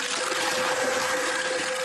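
Water pours steadily into earthen plaster soil mixed with sand and chopped straw, a continuous close gushing rush with a faint steady tone and no voices.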